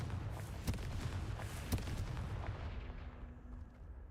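In the Hogwarts Legacy video game, the Confringo fire spell sets off a couple of sharp blasts that crack over a rumbling bed, then fade into a softer tail.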